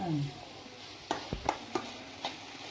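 Chopped shallots and garlic sizzle in a pan for a Kerala clam masala, with a few sharp scraping knocks from a spoon stirring them over a soft, continuous fry.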